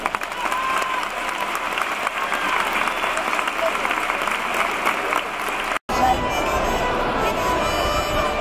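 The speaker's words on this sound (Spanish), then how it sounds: "un fuerte aplauso" Strong crowd applause at an armed forces exhibition after a military detection dog's demonstration, loud dense clapping sustained for several seconds, briefly cutting out before resuming just as full.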